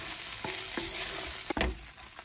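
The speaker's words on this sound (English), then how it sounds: "add a paste, masala paste, and cook it for 10 minutes on slow flame." Masala paste with shallots cooking slowly in a pan, giving a soft, constant sizzle broken by a few scraping stirs, heard close and fairly quietly with no one talking.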